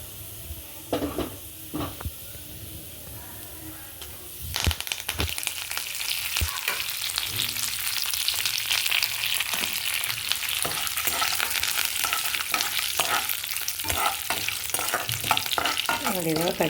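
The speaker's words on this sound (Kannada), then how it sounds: "ಕರಿಬೇವು ಹಾಕ್ಕೊಳ್ತೀನಿ ಇವಾಗ." Curry leaves drop into hot tempering oil for a potato sagu. A quiet sizzle with a few clicks swells into a loud, crackling fry, and steady stirring scrapes run throughout.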